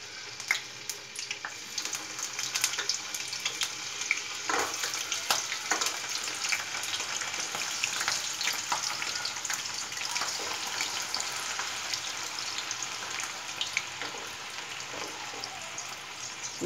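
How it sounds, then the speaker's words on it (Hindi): Paneer sizzles in a pan with a steady, moderately loud crackle and scattered pops, carrying on throughout with no talk. "पनीर को फ्राई कर लेंगे।"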